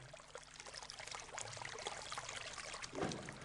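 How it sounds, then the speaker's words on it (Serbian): A small stream babbles constantly along the path of a tourist cave, a faint, continuous trickle and gurgle of water that swells briefly toward the end. "I konstantno se čuje žubor vode."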